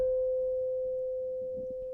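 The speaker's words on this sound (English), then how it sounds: "That's the sound of a very fast wobble, meaning that it's even farther away." A steady pure tone pair, slightly mistuned against each other, sustains for two seconds with a fast beating wobble, alone apart from faint low background noise.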